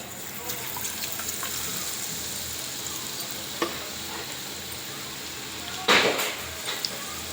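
Boondi made from gram flour batter frying in hot oil, a steady close sizzle with occasional stirring clinks and soft splashes, no voices over it.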